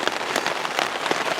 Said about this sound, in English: I'm waiting for the rain to slow down.